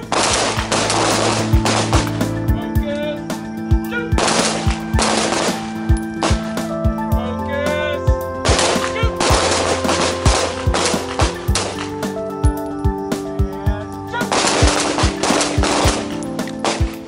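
Handgun fire during a live-fire shooting class on a range: many sharp, loud shots in rapid overlapping volleys from several shooters, clustered in bursts with ringing echoes, continuing throughout with no talk.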